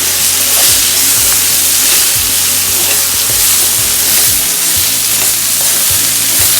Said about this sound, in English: Lower the flame and stir the vegetables.